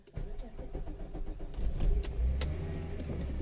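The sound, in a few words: VW Corrado engine starting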